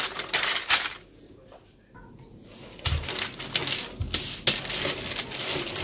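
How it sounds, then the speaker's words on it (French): A rolling pin presses Ferrero cake dough flat between two sheets of paper, giving crisp rustling and crinkling strokes, a short quiet pause, then more rolling, close and fairly loud. "avec un rouleau à pâtisserie, je vais aplatir"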